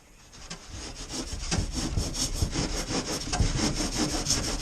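A handsaw cuts through polystyrene in quick, steady back-and-forth strokes, close and fairly quiet, with no talking.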